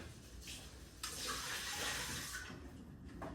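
Water sloshed around inside a Vitamix blender jar to rinse it out, a close, rushing swirl of liquid that swells and then eases over a few seconds.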